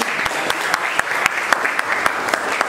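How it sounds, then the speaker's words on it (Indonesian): A classroom of students claps for a classmate during a Grade 10 trigonometry lesson, a loud, dense burst of applause with sharp individual claps running steadily throughout. "tepuk tangan dulu untuk Rekel."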